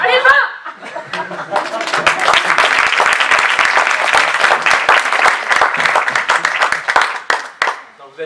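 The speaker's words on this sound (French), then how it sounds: "vous êtes là, vous applaudissez comme des cons" An audience at an improv comedy show bursts into sustained applause mixed with chuckles and laughter, loud and close, after a voice briefly speaks at the start.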